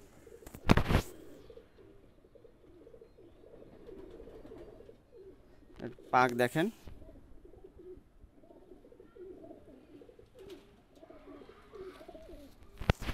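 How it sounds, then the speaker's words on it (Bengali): A male Sialkoti running pigeon coos softly in a few low, rolling bursts close by, with a couple of louder wing-flap or handling bursts. Someone speaks briefly. "মাশাল্লাহ কোয়ালিটি একটা শিয়ালকুটি কবুতর, রানিং কবুতর, নর কবুতর।"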